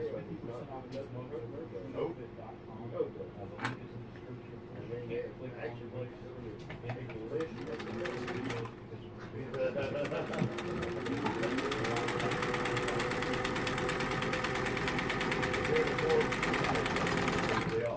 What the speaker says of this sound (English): I'm going to take this side and I want to line it up and sew it down.